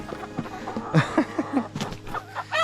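Backyard homestead chickens cluck close by in short, uneven bursts of clucks and murmurs, with a faint steady hum behind them.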